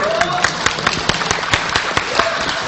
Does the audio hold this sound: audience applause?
yes